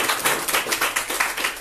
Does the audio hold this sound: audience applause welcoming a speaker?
yes